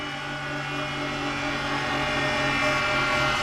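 A Kamas H14 hammermill's electric motor winding down after being switched off, a steady droning hum with a stable tonal whine that carries on throughout.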